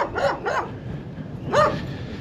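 A pitbull barks at a rural property, giving three sharp, fairly close barks: two in quick succession, then a pause and a third bark, over a low background murmur.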